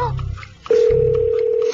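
A phone call connecting on a Korean radio show: a short electronic signal, then a clean steady ringback tone that holds for about a second, with low studio voices murmuring beneath at the start.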